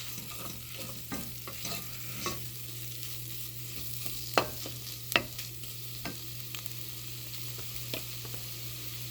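Chicken korma with fenugreek powder is stirred in a pan, with soft, sparse scrapes and taps over a low, continuous sizzle and no talking.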